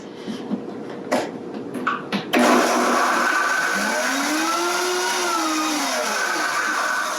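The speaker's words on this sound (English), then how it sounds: "I've gone ahead and put this all into my Vitamix, my high-speed blender here, and we're just gonna go ahead and get this combined" A Vitamix high-speed blender blends taco sauce made with coconut milk, kicking on after a few short knocks and running loud and steady, its motor pitch sweeping up and back down while it whirs continuously.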